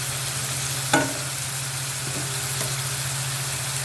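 Chopped tomatoes sizzling in hot oil in a pan, a steady frying hiss with a sharp clatter of stirring near the start and a couple of softer scrapes after.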